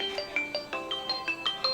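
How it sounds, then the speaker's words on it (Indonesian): A mobile phone ringtone plays a quick, bright electronic melody of short chiming notes in a steady rhythm, fairly clear and alone without any talking. "Waduh, ada telepon."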